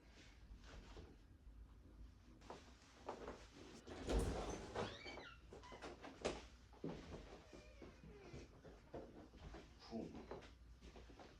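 A bedroom door in a small Toronto room swings open, giving a few soft creaks and a light knock against the quiet room, with scattered handling clicks around it and no talk.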